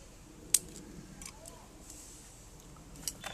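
Pruning shears snip a branch on a bald cypress tree at a dome planting, a single sharp nearby click followed by a fainter snip at the end over quiet outdoor background.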